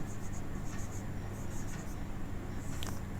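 Pen or marker writing out a trigonometric limit formula, a steady faint scratching with short strokes over low room hum.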